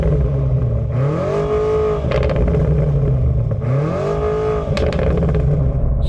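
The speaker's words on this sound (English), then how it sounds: "For a plug-in hybrid, this car sounds blooming good, you know. Rev it up." A BMW M5 plug-in hybrid engine revs twice in succession, each blip rising sharply in pitch then falling back, with a loud, throaty idle between the revs and some mechanical clatter as it settles.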